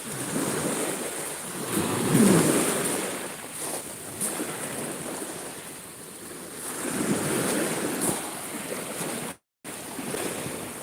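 Sea waves roll in at Kuşadası, surging and receding in slow swells with wind buffeting the microphone, loud and close, broken by a brief dropout near the end.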